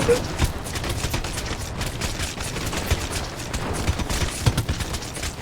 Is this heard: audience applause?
no